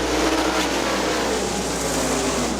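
Super sprint race cars roar together at a dirt track as the field returns to racing after a green flag, a dense, steady engine drone that stays loud and continuous throughout.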